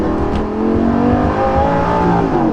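Lamborghini Gallardo LP550-2 accelerating at night, its engine a loud, sustained, close drone with layered tones climbing steadily, heard alone without talk.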